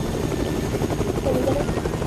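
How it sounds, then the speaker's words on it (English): A helicopter in the Fortnite video game runs steadily and loudly close by, a dense churning rotor drone that stays constant throughout with no speech over it. "I can reassure you guys there is a chopper here."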